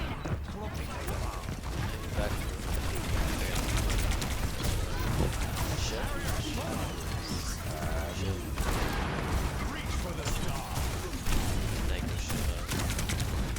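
Rapid gunfire from a video game battle, shots aimed at a tank, sounding as dense continuous bursts and clatter through the whole stretch, with a voice talking over much of it.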